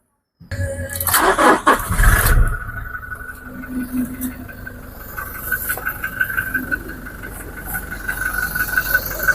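A 2022 Toyota Innova Crysta automatic BS6 diesel engine cranks and catches with a loud burst, then settles into a steady, moderately loud idle with a faint whine.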